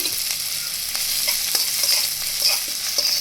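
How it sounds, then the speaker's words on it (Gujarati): Fenugreek leaves being sautéed in ghee for methi mathri, with a continuous close sizzle and light stirring clicks. "અને મેથીને આપણે ઘીમાં થોડીક સાંતળી"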